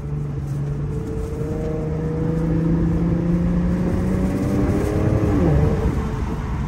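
A tuned 450 whp all-wheel-drive Infiniti Q50S accelerates hard, its engine note climbing steadily through the revs before a quick drop near the end, loud and close with no talk.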